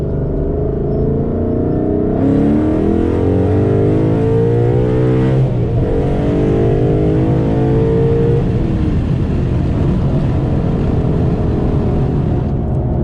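A Ford Mustang engine revs hard while driving, a loud, deep, rising growl with climbing harmonics, a brief shift in tone, then steady roaring acceleration close up.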